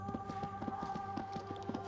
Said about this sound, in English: The sound of your horse's hooves disturbs an old soldier from his small farmhouse